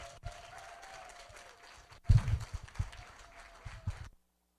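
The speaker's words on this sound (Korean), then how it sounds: "큰 박수 부탁드리겠습니다." Applause from an audience at a business seminar, a burst of clapping that swells suddenly midway and carries on irregularly for a couple of seconds before cutting off.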